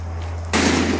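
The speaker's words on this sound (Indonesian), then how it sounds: "Ada yang menembak." Gunfire in the video game Far Cry 6, an abrupt loud burst of shots cutting in halfway over a low steady hum and continuing to the end.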